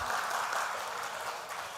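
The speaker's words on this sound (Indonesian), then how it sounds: "Silahkan kalau mau tepuk tangan" Audience applause at a provincial PKB party leadership inauguration and working meeting in East Java, a steady, continuous wash of clapping from a crowd lasting the whole short stretch without a break.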